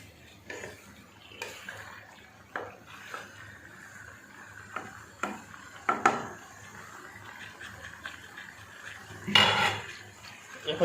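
Metal utensils clatter against a pan while chicken fries for dum biryani in a home kitchen, with sharp scattered clinks and scrapes over a low sizzle, moderately close and no talking.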